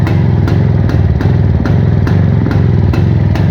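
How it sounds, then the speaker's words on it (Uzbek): Close up, an idling Planeta 4 motorcycle in freezing Fergana weather keeps a loud, even, rhythmic chugging beat throughout, with no speech. "Men qarang, mana mototsikl ishlashini."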